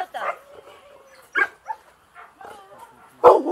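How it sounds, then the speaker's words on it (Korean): A Labrador Retriever at a detection-dog training center gives short barks and whimpering yips close by, scattered in brief bursts while people talk over and between them. "얘는 라브라도 리트리버고요"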